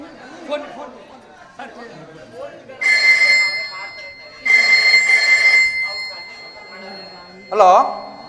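A telephone rings in a staged social drama, three loud electronic ringing bursts separated by pauses, with people talking and chattering between and over the rings.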